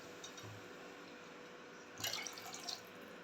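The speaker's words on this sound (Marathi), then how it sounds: "त्याच्यासाठी मी आता इथं 7 वाट्या पाणी घालणार आहे" Seven cups of water poured into a pot of bajra (pearl millet) khichdi in a home kitchen: a soft, steady background, then a brief splashing pour about two-thirds of the way through.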